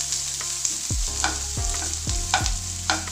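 Onions, curry leaves, green chilies and a dried red chili sautéing in a pan for a quick breakfast dish: steady close sizzle with repeated scraping stirs of a spatula at a loose rhythm.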